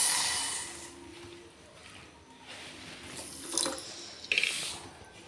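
Water from a quarter-cup measure is poured into a pot holding a quarter cup of sugar, for a homemade fruit cocktail syrup. There is a steady close splashing trickle with brief louder gushes near the end, and no talking.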